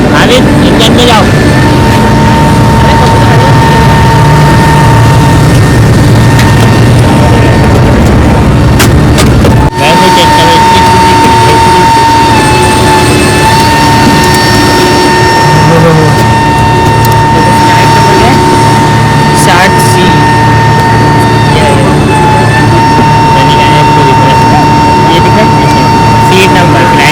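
A jet airliner engine runs on a flight from Jeddah to Karachi, a loud steady drone with a sustained whine, briefly shifting near the middle, with muffled voices underneath.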